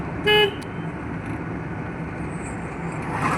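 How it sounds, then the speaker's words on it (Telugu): A single short car horn toot sounds near the start inside a car at a driving school, followed by a steady low engine and road rumble with no talking. "హార్న్ ఒకటి వేయండి ఒకసారి"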